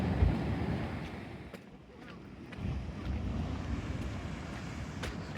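Sea waves surging against the Teignmouth seawall, a broad rushing wash with low rumbling swells under heavy wind buffeting on the microphone, steady and fairly distant.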